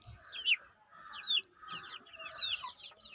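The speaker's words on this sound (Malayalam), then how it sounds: "white and black and white കോഴിയാണ്" A black and white hen gives a few clucks close by among other bird calls, with high, sharp chirps recurring in a loose rhythm over a quiet background.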